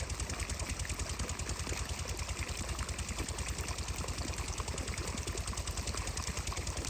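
A diesel generator powering farm irrigation chugs alone in a fast, even, rapid knock, steady and unbroken throughout at moderate distance.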